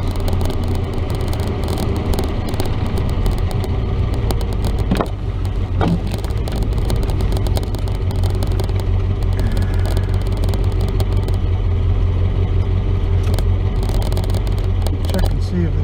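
A Chevrolet S10 pickup truck drives with a loud, constant engine drone and road rumble throughout, near and steady, with someone talking over it.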